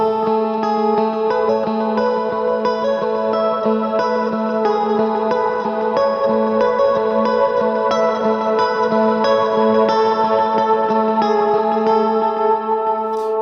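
A sustained, droning guitar chord in G rings out with heavy reverb and effects, lush and continuous at a steady loudness throughout.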